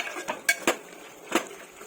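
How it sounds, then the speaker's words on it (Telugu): Mutton curry being stirred in a cooking pot with a metal spoon, giving a few sharp clinks and scrapes against the pot at irregular intervals, close up, with no talk. "ఇప్పుడు ఒకసారి కలుపుకుందాం"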